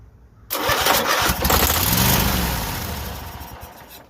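A Cub Cadet Super LT 1554 lawn tractor engine cranks and catches after being jumped without a battery, a loud, close, steady rumble that begins abruptly and runs continuously.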